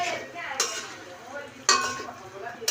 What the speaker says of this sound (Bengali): আমরা এখন আলুগুলো দিয়ে নাড়াচাড়া করবো